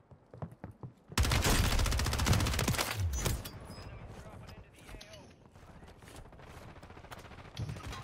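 Sustained automatic gunfire from an MTZ 556 rifle in a first-person shooter, a loud dense burst lasting about two seconds, then quieter scattered shots and game noise with a voice speaking over it.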